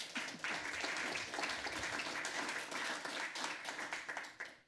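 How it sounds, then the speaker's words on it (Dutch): An indoor audience at a Dutch municipal event gives a sustained round of applause for an Amsterdam alderman, dense clapping from a full room that fades out at the end. "mag ik alsjeblieft een groot applaus voor de wethouder?"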